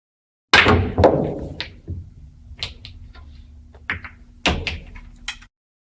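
Billiard balls in the Virtual Pool video game: a sharp cue strike, then a series of clicking collisions and thuds as the balls roll around the table and drop, fading between hits.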